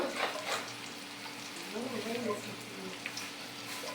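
Ginger and garlic paste dropped into browned onions frying in a pan while cooking baim eel fish, a soft steady sizzle close by with a faint spoon scrape and a brief murmur of a voice.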